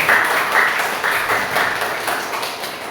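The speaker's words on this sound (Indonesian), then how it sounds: "Kasih tepuk tangan buat." Students in a classroom clap together on a teacher's request at the end of a biology lesson, a steady patter of many hands filling the room for about three seconds, fairly close and fairly loud.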